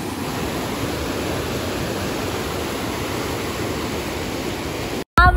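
A powerful waterfall swollen by monsoon rain near Khopoli, heard as a steady, dense roar of crashing water that fills the whole scene without letting up, cut off abruptly near the end by a brief handling noise.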